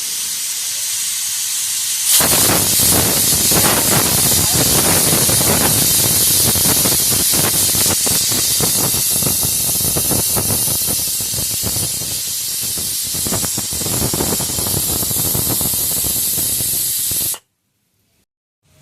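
A pressure cooker vents steam in a home kitchen during cooking, a loud, steady hiss that bursts in abruptly and holds for about fifteen seconds before cutting off sharply into silence.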